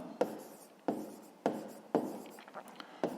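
A pen writes by hand on paper while numbers for a fifth-grade maths exercise are worked out, giving close, quiet scratchy strokes that come in about six short bursts at a steady pace, with no voice over them.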